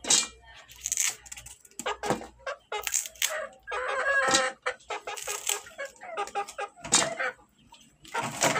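Chickens cluck repeatedly and close by in short bursts, with an occasional louder squawk, and a few voices talk intermittently over them.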